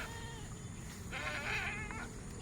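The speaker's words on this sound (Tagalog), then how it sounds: "nag-iyak-iyak na yung ating mga kambing" Farm goats bleat in a couple of wavering, nasal cries in the middle of the clip, fairly close, over a steady low background hum with no talking.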